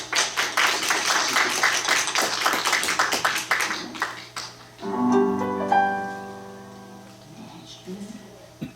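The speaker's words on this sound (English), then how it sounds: "Let's give them a round of applause." An audience claps after gospel numbers on a live country radio show, with brisk, dense applause for about four seconds that fades out as a voice and music begin.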